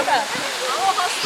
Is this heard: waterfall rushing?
yes